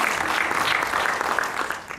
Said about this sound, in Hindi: जोरदार तालियों से हम स्वागत करते हैं.